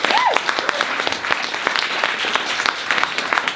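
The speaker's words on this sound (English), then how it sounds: "Let's have another big cheer and round of applause for Declan." An audience at a comedy night applauds steadily after a stand-up set ends, dense clapping from a crowd that holds at an even level throughout.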